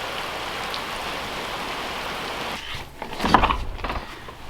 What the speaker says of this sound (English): Look at that rain coming down.